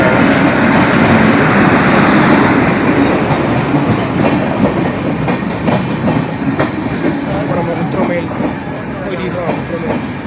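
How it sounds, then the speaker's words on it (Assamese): The Brahmaputra Mail, a long-distance passenger train from Kamakhya to Delhi, moves slowly through Nalbari railway station beneath a flyover. It gives a loud, sustained rumble with regular clickety-clack wheel beats that ease slightly toward the end. "এইখন হৈছে ব্ৰহ্মপুত্ৰ মেইল ৰেলগাড়ী।"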